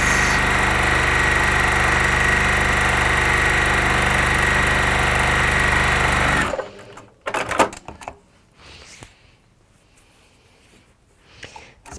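A sewing machine stitching down the side of a piece, a steady, close mechanical whir for about six seconds that stops abruptly, followed by faint handling noises.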